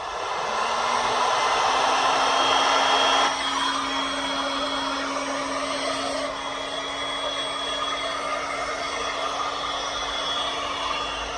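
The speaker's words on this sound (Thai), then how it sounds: "ไดเป่าร้อน เป่าชิ้นงานให้อุ่นนะคะ" A heat gun blows steadily on a plastic body panel of a 2021–2022 Honda PCX motorcycle, warming it before protective film goes on; a loud, continuous close-up whoosh with a faint whine, briefly shifting tone partway through, with no talking.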